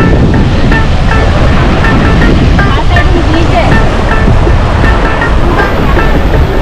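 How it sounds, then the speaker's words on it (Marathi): A loud, continuous roar of sea water surges and crashes against rocks on the Konkan coast, close by, with faint voices mixed in. "पूर्ण खडकावर जवळजवळ पाणी आपटले."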